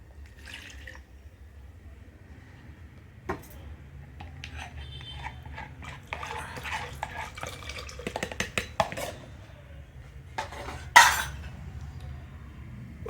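Ground masala and water are stirred into cooked mutton curry in a pot, giving sparse wet clinks, scrapes and drips, then one louder clatter near the end.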